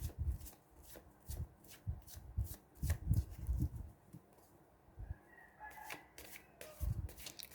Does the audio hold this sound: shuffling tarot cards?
yes